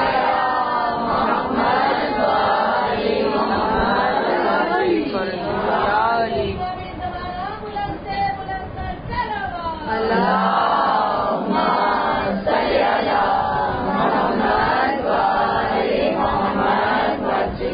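A majlis audience on the 7th of Muharram recites salawat aloud together, a dense, continuous crowd chant of many overlapping voices that rises and falls steadily throughout.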